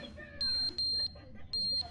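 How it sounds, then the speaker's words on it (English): Loud electronic beeping in the video game The Stanley Parable, three long sustained tones in an irregular pattern over a quieter background with faint talk. "What is that loud beeping?"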